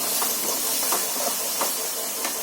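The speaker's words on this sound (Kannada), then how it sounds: "ಫ್ರೈ ಆಗ್ತಾ ಇರೋದು ಸ್ವಲ್ಪ ಕಲರ್ ಚೇಂಜ್ ಆಗಬೇಕು ಉಳ್ಳಾಗಡ್ಡೆದು." Onions frying in a pan with a little salt, giving a steady broadband hiss and sizzle with faint crackles throughout, close and continuous with no voices.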